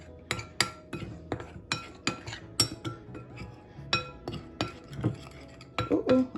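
Flour, cornstarch, pepper, garlic powder and seasoning are mixed in a kitchen bowl, with a utensil clinking and scraping against the bowl in a quick irregular run of sharp taps.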